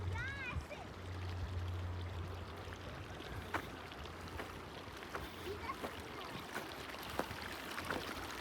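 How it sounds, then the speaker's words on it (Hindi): Water runs steadily along a small hillside channel near a home high in Naran Valley at Babusar Top, a continuous broadband wash with faint wind and a voice talking briefly near the start. "पानी चलता ही रहता है"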